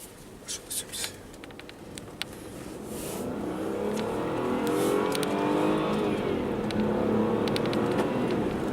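A 2019 Mini Countryman with a 1.5-litre three-cylinder engine drives on the road, its steady engine and road noise building into a constant drone, with a few light clicks near the start.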